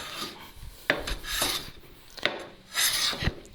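Hand plane taking shavings off a wooden router sole for a Stanley No. 71, heard as several separate rasping strokes across the wood at an uneven pace, close and fairly quiet, with no talking.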